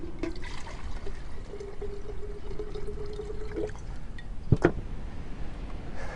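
Water pours steadily into a jar of leftover almond pulp for almond milk, a soft continuous trickle with a faint rising tone, ending with a couple of sharp clinks near the end.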